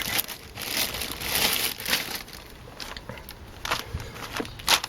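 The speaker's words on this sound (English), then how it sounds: "I'll just dump that in a plastic bag" A plastic bag crinkles and rustles continuously up close as a car oil filter is dropped into it, with irregular crackling bursts and a few sharper rustles toward the end.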